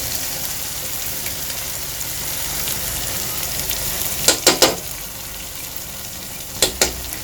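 Blended spinach poured into a pan of frying chicken masala for palak chicken, a steady close sizzle with a few sharp spoon knocks against the pan near the end.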